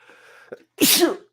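A single sharp sneeze bursts out close and loud after a faint breathy lead-in, in a quiet podcast studio setting, with no talking during it.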